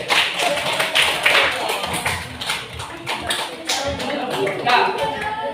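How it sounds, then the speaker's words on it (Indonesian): Applause from a classroom of students for the last group to present, a dense run of many hands clapping at steady loudness, with some voices mixed in underneath. "kita beri aplaus untuk kelompok terakhir"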